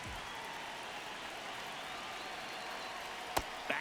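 A baseball crowd in the MLB The Show 26 video game keeps up a steady, distant roar of cheering and applause through a tense ninth inning, and two sharp cracks cut through near the end.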